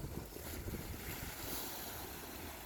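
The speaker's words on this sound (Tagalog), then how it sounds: "Kaya lang mahangin ngayon" Wind blowing across Lake Manitoba, a faint, rough rumble of gusts buffeting the microphone with a soft airy hiss, continuous and unbroken for a few seconds with no one speaking.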